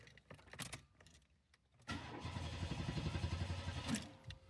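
A car with a straight-piped exhaust and no muffler cranks over. Faint clicks and rattles come first, then a steady rough churning drone of starter and engine that runs to the end, close and unmuffled.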